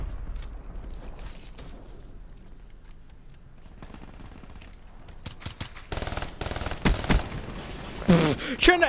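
Rapid bursts of 40 Dredge automatic fire ring out in a Call of Duty Black Ops 3 match, with sparse shots early and dense, loud volleys in the later seconds alongside other battle noise.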